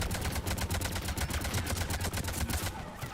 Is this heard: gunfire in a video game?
yes